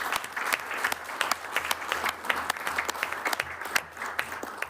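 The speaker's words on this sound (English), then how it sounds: "Let's give her applause." Attendees at a county board meeting clap together, a dense round of applause with sharp individual claps standing out, sustained for several seconds without speech.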